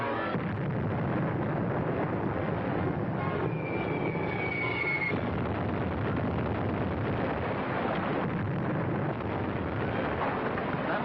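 Explosions in an old radio drama, a continuous rumbling roar of blasts and bursts with a rising whine partway through, loud and dense throughout with no talk.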